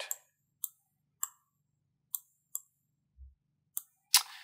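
Sharp computer mouse clicks while setting up dual monitors on a Raspberry Pi, about eight crisp isolated clicks at irregular intervals, close and clear, with a louder click at the end.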